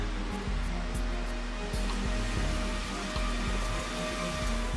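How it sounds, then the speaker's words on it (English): A floor buffing machine works in a closed-down shopping mall, a steady low droning hum with a regular pulsing thump roughly every half second, continuous and fairly close, with no voices. "They're still buffing the floors."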